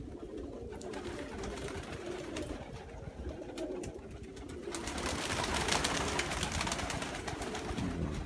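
Pigeons cooing around scattered grain and seed feed, a steady soft burble of several birds close by that swells a little louder partway through, with a brief spoken word at the start.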